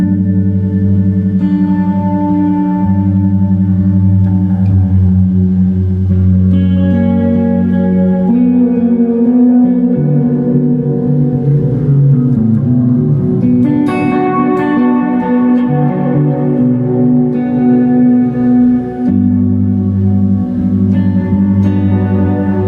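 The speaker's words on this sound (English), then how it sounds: "there's a really nice reverb" Electric guitar played through a multi-effects pedal's lush reverb setting, sustained chords and notes blooming into long, washy echoing tails, loud and continuous with no talking.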